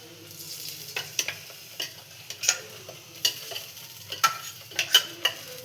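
Egg curry masala frying and being stirred in a pan, with a steady close sizzle broken by repeated scraping strokes of a spatula, no voices.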